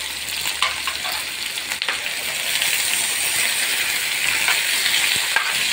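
Potatoes fry in a pan with a steady, hissing sizzle and occasional faint clinks from stirring.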